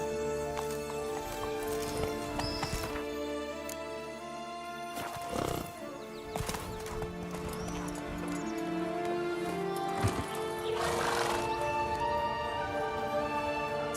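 Roach the horse gallops in The Witcher 3: Wild Hunt, with steady clip-clop hoofbeats and an occasional whinny running under sustained game music throughout.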